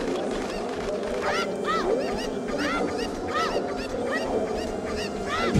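Chickens in a video game, played during a speedrun at Gamescom 2015, give a busy series of short, bright clucks and squawks over a constant hall-like background hum.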